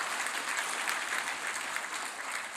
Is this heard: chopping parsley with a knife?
no